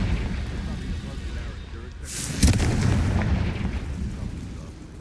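Confringo spell blasts go off in the video game Hogwarts Legacy, one sharp explosive burst standing out over ongoing rumbling combat noise, with a voice calling out spells.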